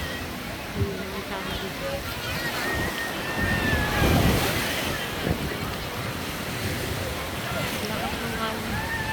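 Strong surf at the beach in Noja, Cantabria, Spain, washes and rolls in with wind buffeting the microphone, while people talk throughout over the waves.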